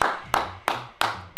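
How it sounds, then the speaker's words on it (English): Hand clapping, four crisp close claps in an even, quick rhythm, a short round of applause with no talk over it. "Round of applause"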